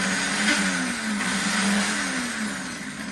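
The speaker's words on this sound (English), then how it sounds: "I put everything in the blender. And we're going to get this going" A blender whirs steadily on chickpeas and garlic for spicy hummus, a loud continuous motor drone with a slowly shifting pitch, running alone without talk.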